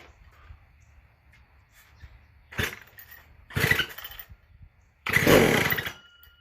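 A McCulloch SP125 chainsaw, running only on squirted fuel, fires in three short loud bursts of a second or so each, separated by quieter stretches of low rumble.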